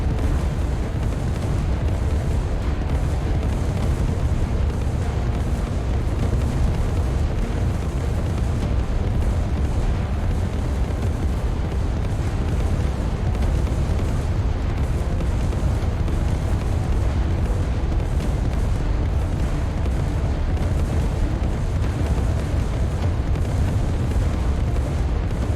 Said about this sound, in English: That is just beautiful to behold, all those explosions